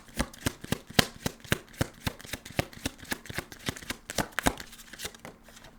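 Tarot cards being shuffled during a pick-a-card reading, a quick rhythmic run of crisp riffling snaps, steady and close, with no talking.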